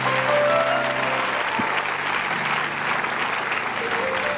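A church congregation at an Impact Centre Chrétien worship service claps in steady, loud applause that fills the room, a dense continuous roar of hands with a faint voice and low tones underneath.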